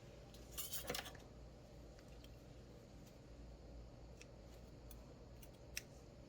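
Scissors trim yarn on a crocheted amigurumi axolotl piece: a couple of quiet, crisp snips, one early and one near the end, over a steady low room hum.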